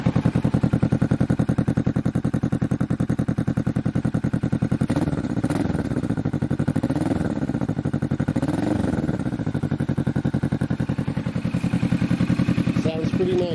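A 2020 Kawasaki Vulcan S motorcycle with a budget aftermarket exhaust idles loud and close with a steady rapid thump, then revs up a few times in rising and falling surges before settling back to idle.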